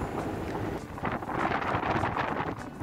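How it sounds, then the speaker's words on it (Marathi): Strong, steady wind roars at Nagaon beach near Alibaug in July, a continuous loud rushing buffet across the microphone with no talk on top. "किती वारा सुटला आहे ना."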